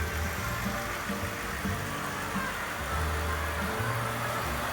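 A 2008 Cadillac DTS with a 4.6 liter Northstar V8, front-end collision damage, runs on a wrecking-yard engine test, a steady mid-pitched hum with faint irregular knocking pulses beneath.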